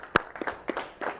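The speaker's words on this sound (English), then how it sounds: "Give yourselves a round of applause for putting this work in." A small group of student athletes gives a few scattered claps, about four sharp, separate slaps spread over a second, fairly faint and with no sustained applause.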